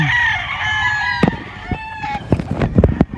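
Large gamefowl roosters crow in long, overlapping calls, followed by a burst of clucks and scuffling close by, loud and alone without talk.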